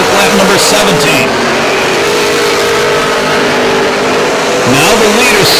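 Super stock race cars run side by side down the back straightaway of a dirt speedway, engines droning loud and steady throughout, with a rising surge near the end, under continuous race commentary.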